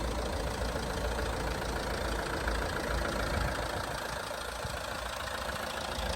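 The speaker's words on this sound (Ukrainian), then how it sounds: "Мотор працює чітко, рівненько." A Fiat Freemont 2.0 diesel engine idling steadily, a low continuous rumble with a faint rhythmic knock, even and unchanging, no voices.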